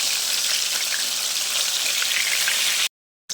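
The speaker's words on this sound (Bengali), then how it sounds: "এবার আমি উল্টে আর এক পিঠ ভালো করে ভেজে নেব।" Lotia fish cutlets frying in hot oil give a dense, steady crackling sizzle that stays loud and unbroken, then stops abruptly near the end.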